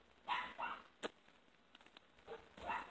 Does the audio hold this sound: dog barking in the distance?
yes